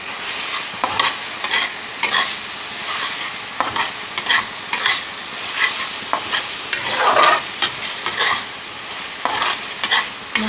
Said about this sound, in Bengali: ভালো করে মশলাটাকে এবার ভেজে নিলাম।